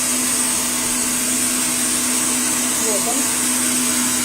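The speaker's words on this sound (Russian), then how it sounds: "взбивается белок." An electric mixer whips egg whites for marshmallow in a steady, loud, unbroken motor whir with a constant hum, and a brief spoken remark is heard over it.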